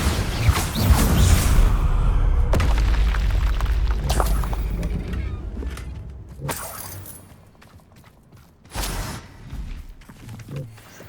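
A Bombarda blasting spell goes off in Hogwarts Legacy with a loud, deep booming explosion and crackling debris, decaying over several seconds, then further sharp bursts and rumbles follow.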